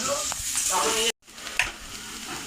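Onions sizzle and crackle in a hot pan with some stirring, the sound cutting out briefly partway before the frying resumes.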